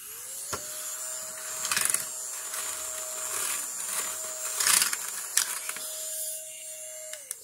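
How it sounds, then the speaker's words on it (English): A mini USB rechargeable vacuum cleaner runs with a steady whining hum throughout, close by, with scattered clicks and handling knocks as it moves over a flat surface. "So to turn it on, push the button."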